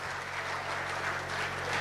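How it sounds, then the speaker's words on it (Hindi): A crowd at an election debate event in Takhatpur claps to open the session. Brief, steady applause comes as a dense wash over a low background hum. "तो जोरदार तालियों के साथ आइए शुरुआत करते हैं गदर का"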